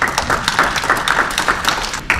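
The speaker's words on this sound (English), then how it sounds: "you all deserve a round of applause" Applause from an audience at a gathering after a fundraising report, a steady wash of many hands clapping close by for about two seconds with no talk.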